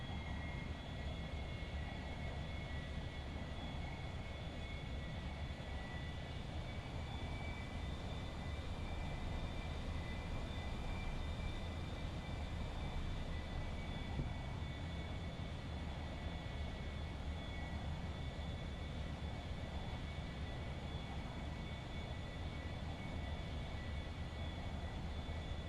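Steady, continuous drone of a light aircraft engine in flight with the throttle raised, a dense low rumble under sustained tonal whine, constant and close with no talk.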